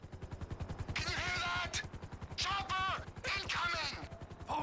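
Rapid bursts of Grand Theft Auto 5 gunfire crackle in quick succession, loud and close, with brief whooshing effects between volleys.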